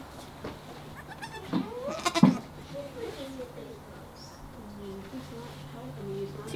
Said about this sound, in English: Watching goats being delivered.